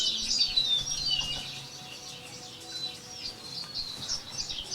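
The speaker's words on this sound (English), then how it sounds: "Gotta make these birds a little less loud." Jungle bird ambience played as background for a tabletop fantasy role-playing game, with several birds chirping and trilling in high, overlapping calls over a quiet bed, moderately loud and without speech.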